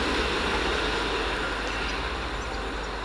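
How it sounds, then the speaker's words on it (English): A Northern Rail local service from Alderley Edge to Manchester Piccadilly pulls into a station, giving a steady, broad rumble of wheels and motors that stays loud and even throughout, with no voices. "It's now coming in the 1254 Northern Rail service from Alderley Edge to Manchester Piccadilly."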